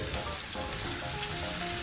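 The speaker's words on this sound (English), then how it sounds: "we have to first of all fry potatoes and then we will add onions" Potatoes frying in a pan, a brief, faint, steady sizzle with no talking.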